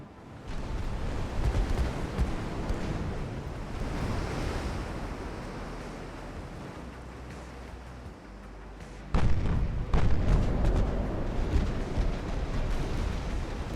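Six-inch naval guns firing in the naval battle game Ultimate Admiral: Dreadnoughts, deep rumbling blasts over a constant sea-and-wind wash, with a sharp, louder report near the end.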